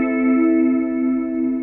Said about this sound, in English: have like a really reverberated sound on the Spark amp